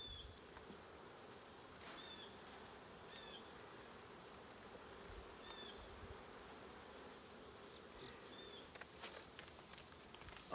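A captured honeybee swarm hums around its hive boxes as a faint, steady buzzing drone, with soft scattered movement and a few light knocks, and no voices.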